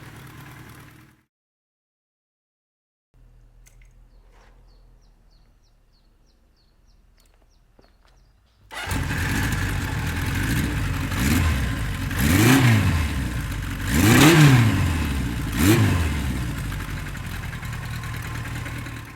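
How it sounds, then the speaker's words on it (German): A rebuilt Kawasaki Z 900 motorcycle engine sputters to life after a quiet stretch, idles low, then is revved sharply several times with rising and falling bursts, close and loud. "gebe jetzt bei dem ganz neuen Motor richtig Gas"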